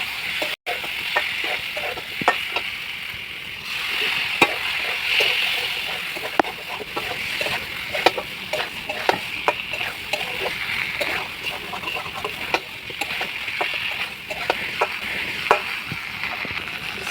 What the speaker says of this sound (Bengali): ভেজে রাখা পটল আলুগুলো দিয়ে দেবে,